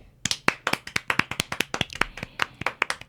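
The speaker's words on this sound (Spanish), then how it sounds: "Aplausos." A small group claps at a Mexican political talk show broadcast, the sharp irregular claps close and distinct for about three seconds with no voices over them.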